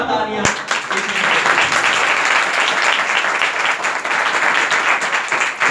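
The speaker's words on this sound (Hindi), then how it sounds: "जोरदार तालियां" A congregation bursts into loud, sustained applause during a Christmas church sermon, the crowded clapping continuing evenly for several seconds as a voice carries over it.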